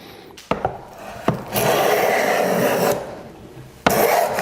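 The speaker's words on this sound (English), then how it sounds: "I've dialed the iron in for very coarse shavings." A hand plane set for very coarse shavings takes long rasping strokes along a wooden workpiece while a cove molding is shaped, several close, loud passes separated by brief pauses and knocks.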